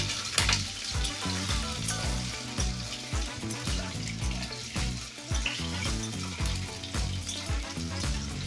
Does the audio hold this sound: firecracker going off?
no